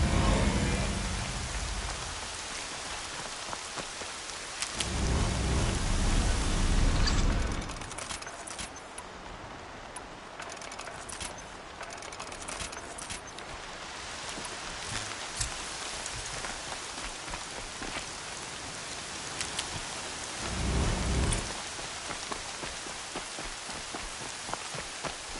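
Steady rain pours down, with two heavy low rumbles of thunder rolling through, one early and one late, over the constant hiss of falling water.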